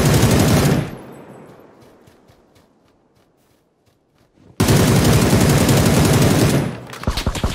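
Beryl M762 rifle sprayed in full-auto bursts in PUBG, a loud dense rattle at the start, a quieter stretch with scattered distant shots, then another long, heavy burst of rapid fire.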